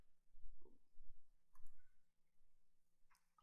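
A few faint, sharp computer mouse clicks on a quiet desk, spaced irregularly over a few seconds with soft background handling noise.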